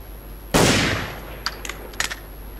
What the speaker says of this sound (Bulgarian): стрелям в главата и ще трябва да стрелям още по него